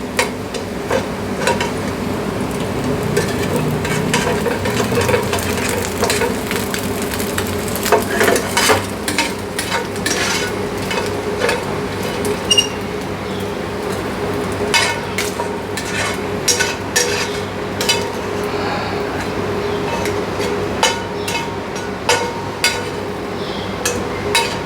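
Crispy bacon for bacon aglio pasta sizzles and crackles in a frying pan, loud and close, while a utensil stirs and scrapes with frequent metallic clinks, continuous throughout with no talking.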